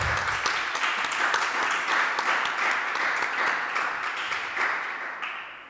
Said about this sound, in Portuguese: eu queria que vocês que estão aqui comigo, recebesse com uma salva de salvas, uma salva de palmas